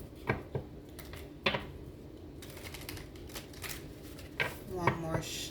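Tarot cards are shuffled softly in several quick riffling bursts, with pauses between them and a faint voice speaking underneath.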